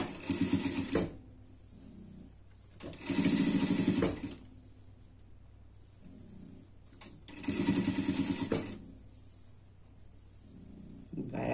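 A sewing machine stitches tape onto a pet sweater in repeated bursts of rapid whirring, each lasting about a second, separated by quieter pauses with faint handling sounds.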